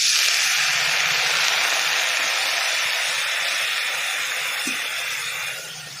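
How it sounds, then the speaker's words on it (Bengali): Curry simmering in a pot over a village fire while prawns are cooked, giving a steady, close, hissing bubble that stays fairly even and eases slightly toward the end, with no talk. "ভালো ফুটছে দিদি তরকারিটা"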